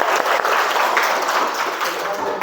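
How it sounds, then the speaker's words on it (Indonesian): Group applause from participants at an indoor workshop icebreaker session, a dense, steady patter of many hands clapping close by, with some voices mixed in underneath. "tepuk tangan untuk kita semua"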